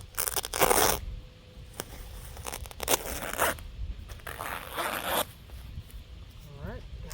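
Garden plastic sheeting being cut, with several bursts of crisp ripping and slicing noise between quieter pauses, close to the microphone, while a person speaks at moments.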